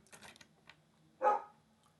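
A single sharp dog bark at a window rings out after some light tapping clicks, fairly close, against an otherwise quiet background.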